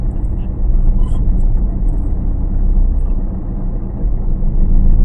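Steady low rumble of a car driving on a road during a driving lesson, loud and continuous from inside the vehicle, with no voices over the engine and road noise.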